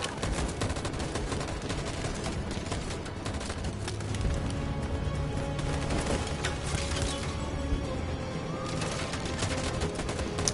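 Dense, continuous gunfire rattles loudly throughout, overlapping bursts and shots forming a sustained fusillade with no pause.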